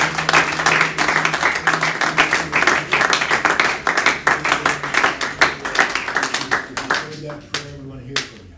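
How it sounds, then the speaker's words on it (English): A church congregation bursts into lively clapping, loud and close, with a few voices mixed in, before the applause thins out and fades near the end. "Let's give the Lord a hand clap."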